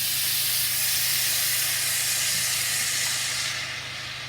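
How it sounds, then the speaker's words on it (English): Skin-on chicken sizzles loudly on a hot, lightly oiled griddle pan in a steady hiss that softens slightly near the end. "I'm gonna spray a little bit of oil there because I'm coming to grill the chicken."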